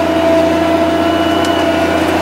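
A Challenger MT765B tractor runs in a field with a steady, loud engine drone and a faint whine above it, holding constant throughout.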